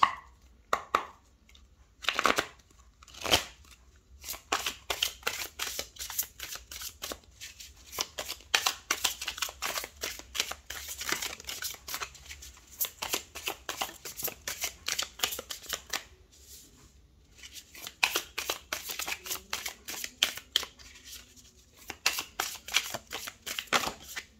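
Tarot cards are shuffled and drawn in a series of quick, crisp riffles and soft slaps, close and fairly quiet, with short pauses between bursts.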